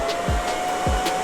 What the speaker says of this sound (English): The fan will turn off in a second here.